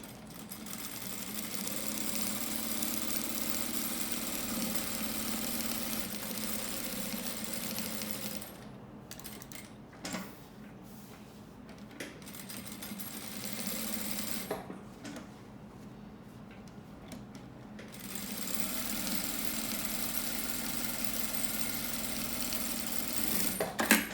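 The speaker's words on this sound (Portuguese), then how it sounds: "vamos costurar daqui de cima até aqui, no tecido externo e no tecido interno" A sewing machine stitches the fabric of a bag organizer in long, steady runs of rapid mechanical whirring, pausing briefly twice before resuming, close and moderately loud.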